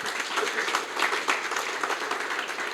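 Applause from staff at a year-end company retreat and award ceremony, a continuous crowd of hands clapping with a busy, uneven texture throughout, loud and without any talk.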